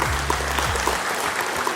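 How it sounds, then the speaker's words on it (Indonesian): An audience claps steadily at an installation ceremony for the Subang PKK and Dekranasda boards, a dense, even patter lasting under two seconds over a low room hum. "tepuk tangan."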